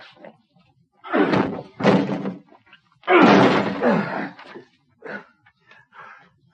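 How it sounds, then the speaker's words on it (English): A locked door is forced open in a radio drama: heavy thunks and a slam in several bursts, with tense gasps and sighs between, close and fairly loud. "Get the door open. Get it open, quickly."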